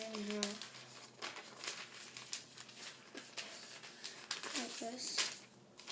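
Sheet of paper creased and folded in half while making a paper airplane, crinkly rustles and sharp crease sounds close by, with someone talking over much of it.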